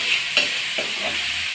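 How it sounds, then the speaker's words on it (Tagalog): Pork sautéed with ginger, garlic and onion sizzles steadily in a pan, broken by a few soft stirring scrapes, close by and with no talking. "Gigisa muna natin siya sa luya, bawang, sibuyas."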